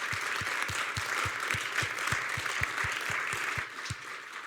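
Audience applause after a panel discussion on EU industry investment, a dense, moderate clapping with a few sharper claps standing out, gradually thinning toward the end.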